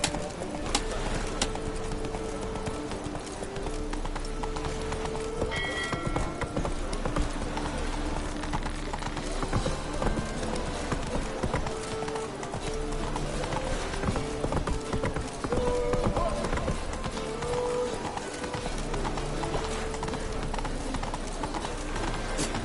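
Clip-clop of the horse Roach galloping in a video game, a steady rapid hoofbeat rhythm running throughout, with bird coos and a game soundscape behind it.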